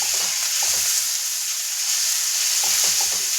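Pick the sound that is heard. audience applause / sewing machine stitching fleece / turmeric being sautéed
turmeric being sautéed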